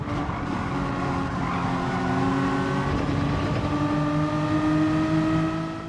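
Several race cars in a racing video game at Laguna Seca sweep past in turn, their engines droning and rising in pitch as they accelerate out of a corner, loud and steady throughout with overlapping engine whines.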